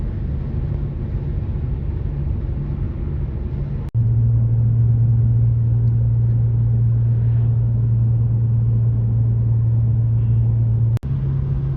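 A BMW E46 cruising a mountain road in the Alps, giving a steady, droning engine and tyre rumble throughout, with a brief dropout and a shift to a stronger, lower hum partway through, no talking.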